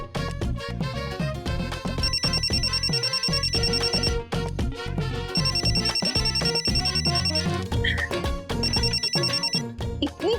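A loud, continuous electronic ringtone melody plays with repeating high beeping tones in several bursts, filling the clip without any talking.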